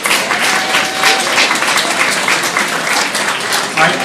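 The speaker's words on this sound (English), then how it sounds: "I think they all deserve a huge round of applause for doing this incredible thing" An audience applauds at the grand opening of a community space, dense sustained clapping from many hands filling the room, loud and close throughout.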